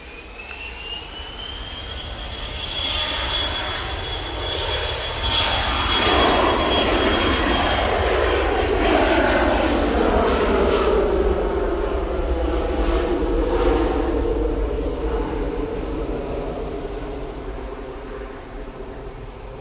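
Jet aircraft climbing steeply after takeoff at Manchester Airport, a loud rising engine roar with a whining tone that swells and then holds as it passes nearby, no voices.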